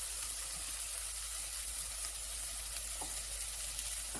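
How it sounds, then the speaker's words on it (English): Jalapeno simmering in a pan gives a steady, fairly loud sizzle and frying hiss that runs without a break from start to end, with a couple of faint stirring clicks and no talking. "let that simmer for a minute so that it cooks through and takes the flavor"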